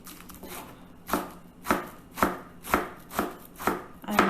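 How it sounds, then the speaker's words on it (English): A knife chops through a stack of Malabar spinach leaves on a cutting board in about seven evenly spaced, crisp strikes, close and clear with no talking. "Wash and clean the leaves of the Malabar spinach thoroughly and then stack them up and chop them."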